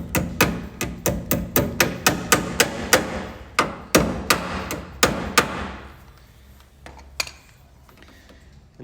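A hammer taps alligator clips into the door seal of an Austin Healey Bugeye Sprite, a quick run of sharp close metallic strikes in steady rhythm, then slower spaced blows that thin out to a few faint knocks.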